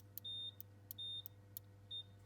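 Three short electronic beeps from the roof sensor of a Ferrari F355 Spider, evenly spaced and fairly quiet over a low steady hum, with faint clicks around each tone.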